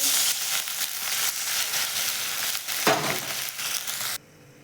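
Ground masala paste hits hot oil with browned onion and turmeric for a peanut amti, giving a loud, steady sizzle with a sharp crackling burst partway through, close up, before it suddenly cuts to near quiet.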